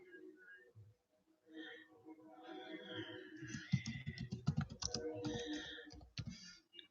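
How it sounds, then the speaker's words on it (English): Fingers tap a computer keyboard in quick irregular bursts of clicks, fairly close and soft, with some faint background sound but no speech. "Let me type it."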